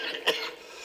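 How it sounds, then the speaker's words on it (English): A single short, sharp cough stands out against a quiet background in a reading of a gothic tale, with no talking around it. "How long have you had that cough?"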